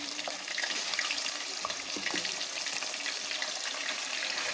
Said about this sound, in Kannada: ಫಿಶ್ ಹಾಕೊಳತ್ತೀವಿ ನೋಡಿರಿ ಈಗ ನಾವು ಆಯಿಲ್ ಒಳಗೆ